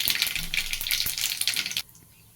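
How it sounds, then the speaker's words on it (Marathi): Cumin seeds dropped into hot oil after mustard seeds crackle and sizzle loudly with small popping bursts, then the sound cuts off abruptly near the end, leaving faint background. "चांगली मोहरी तळतळली की जिरे पण टाकू जिरे टाकून घेऊया"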